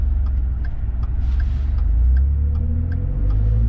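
A 2014 Ford F150 XLT 4x4 pickup with the 3.5 EcoBoost engine accelerates toward highway speed, giving a steady, loud low rumble of engine and road noise that runs continuously without a break.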